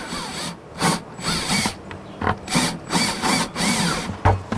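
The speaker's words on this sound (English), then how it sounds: "And then I drill it from the inside" A power drill whirs in several short bursts with brief pauses between them, biting into plastic from the inside of a hand-washing station build up close.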